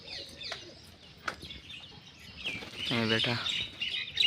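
Rain-wet pigeons settling on a perch make scattered close chirps and calls, swelling into a louder burst of cries near the end, while someone speaks briefly over them.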